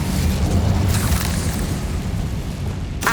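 A fire spell cast in the video game Hogwarts Legacy, a loud sustained whooshing roar of flames that swells mid-burst and ends with a sharp crackle, with no talking.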